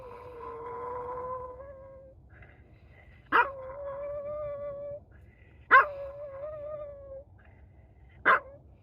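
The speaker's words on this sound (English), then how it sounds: "What are you howling at?" A dog howls close by in several drawn-out, wavering cries, each starting with a sharp bark-like onset, set against quiet low background noise.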